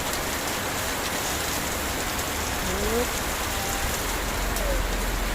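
Heavy rain from a typhoon hisses in a constant loud downpour with wind, with a brief faint voice-like sound partway through.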